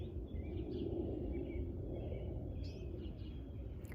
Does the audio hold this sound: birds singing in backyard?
yes